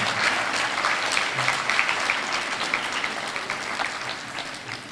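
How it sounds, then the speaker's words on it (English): An audience at a morning FSPA 2015 performing arts event applauds the performers with an even, continuous round of many hands clapping that holds steady before easing slightly at the end. "they deserve a round of applause for the efforts here this morning."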